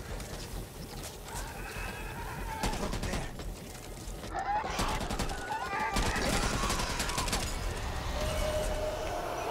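Weapons fire in the zombie shooter Back 4 Blood, with rapid, dense bursts of gunshots that come in volleys and grow louder over several seconds against a busy, chaotic game background.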